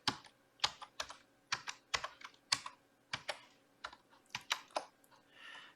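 Quiet, crisp keystrokes as a password is typed on a computer keyboard at a login screen, about fifteen separate clicks in an uneven rhythm with no voices.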